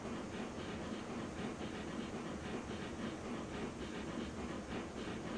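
Train locomotive in the video game Railroads Online straining to haul a heavy load of cars toward an iron mine, a steady dense rumbling churn with a faint rhythmic chug, continuous and fairly close, with no voices.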